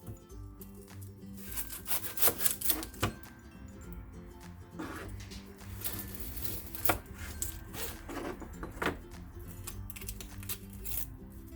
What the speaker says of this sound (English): I'm just gonna get this onion chopped up